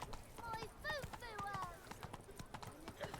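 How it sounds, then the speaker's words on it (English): A horse gallops in The Witcher 3 video game, its hooves making a quiet, rhythmic clip-clop while a person talks over it throughout. "Now we can gallop."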